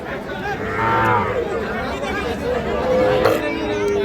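Cattle, including heifer calves and young bulls, low amid a busy crowd of chattering voices at a cattle market, the animal calls blending into the steady open-air babble.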